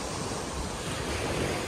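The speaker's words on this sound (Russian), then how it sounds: "Море волнуется." Black Sea surf breaking on a beach in Sochi, a steady broadband wash of waves rolling in close, with wind noise buffeting the microphone throughout.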